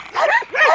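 A fierce dog guarding sheep gives two quick, sharp barks close by, each a short yelping burst with no voices.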